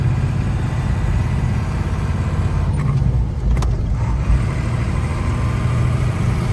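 A rare classic truck's engine drones steadily while driving, a continuous loud low rumble with a brief higher whine near the middle and no talking.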